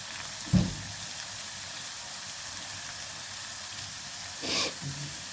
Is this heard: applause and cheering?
no